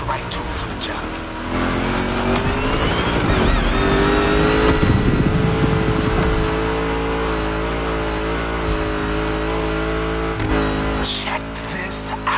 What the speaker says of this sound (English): Yet another one of my rally raid prepped Mustang GTs, just the right tool for the job.